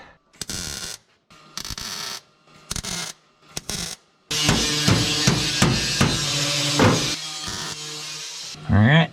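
A hammer works a sheet metal flange on a 1930 Ford Model A: a few separated bursts of rapid metallic tapping, then a longer continuous run of ringing strikes, loud and close in a shop.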